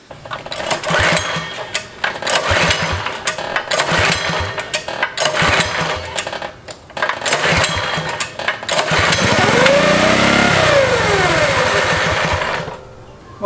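A small 196cc mini bike engine, a Baja Warrior, starts, buzzes and revs in sharp bursts, rising and falling, then settles into a steady high whine before cutting off near the end.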